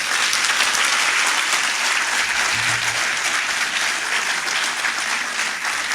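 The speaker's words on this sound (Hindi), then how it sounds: "अब आप ताली बजाओगे, इसकी आवाज से पता लगेगा प्रण में कितना दम है" A large audience applauds at a public event, with dense, sustained clapping that stays loud and even throughout.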